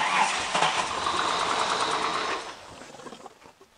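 A car engine runs steadily at idle up close during a water pump check, a dense, even mechanical hum that fades out toward the end; no talking.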